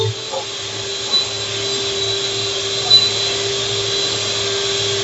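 An electric hand mixer whirs steadily while beating butter with icing sugar for a cheesecake, a continuous motor drone close by with a faint voice briefly underneath.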